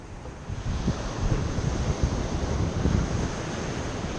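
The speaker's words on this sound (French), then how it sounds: "donc là c'est une grande plage" Surf rolls steadily onto a large beach in Mexico, a broad continuous wash of breaking waves with wind rumbling against the microphone and no voices.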